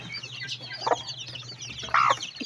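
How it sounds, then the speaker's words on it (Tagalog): Hens clucking close by, a few short bursts over a quiet farmyard background with a low steady hum. "Ito yung inahin na manok."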